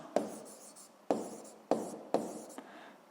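Pen strokes scratching on paper in a physics class, four distinct bursts of handwriting separated by short pauses, close and fairly quiet with no talk.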